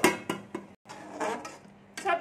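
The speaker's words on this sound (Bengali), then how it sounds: "ওই জন্য একটু ঢাকা দিয়ে দিচ্ছি আমি।" A lid clatters onto a pot of cauliflower simmering with milk and flour, producing several close metallic knocks and rattles, interleaved with a person talking.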